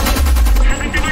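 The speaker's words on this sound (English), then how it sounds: "I have a machine gun." Machine gun fire in Homefront Revolution, a dense, loud, continuous burst of heavy automatic shots heard close up, with a voice speaking under the clatter.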